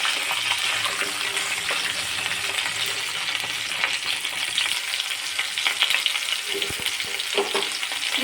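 Chopped raw mango fries with fennel seeds in a karahi, a steady loud sizzle with scraping stirs and a few sharp clinks near the end, no speech.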